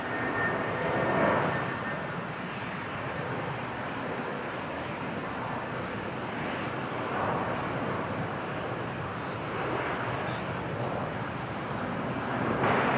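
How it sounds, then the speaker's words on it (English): Qantas passenger jet taking off at Brisbane International Airport, heard from a distance as a steady, broad engine roar that swells slightly and holds for the whole stretch, with no talk over it. "Qantas 524, Brisbane takeoff."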